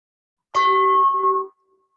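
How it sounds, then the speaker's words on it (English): A single meditation bell struck once, ringing clear with a sustained tone that holds briefly and then fades toward silence, close and alone. "listening to the sound of the bell all the way to its vanishing point"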